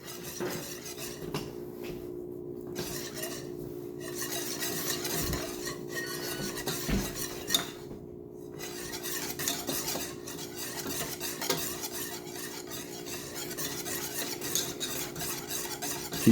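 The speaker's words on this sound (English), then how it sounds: "I'm going to keep stirring it so it doesn't stick and allow it some time to cool." A spoon keeps scraping around a pot of thickening homemade sweetened condensed milk with steady, continuous strokes, close and clear, and a few sharper knocks against the metal break through along the way.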